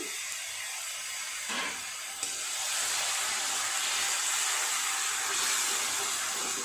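Sliced onion frying in a pan as tomato paste goes in, a steady bright sizzle and hiss that swells after the paste is added and keeps going evenly.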